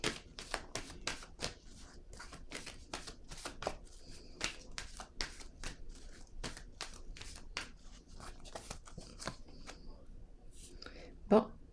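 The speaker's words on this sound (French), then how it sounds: "Je vais déposer une autre carte." Cards tapped and laid down one after another on a table during a French-language card reading, a steady run of short, crisp clicks with quieter rustles between them and soft speech running throughout.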